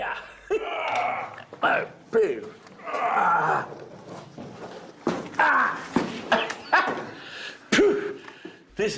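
A dog growls, grunts and whimpers in short repeated bursts with pauses between them, close and moderately loud.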